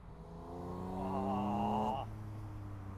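A Porsche convertible's engine revs up, climbing in pitch over about two seconds, then drops back to a lower idle hum.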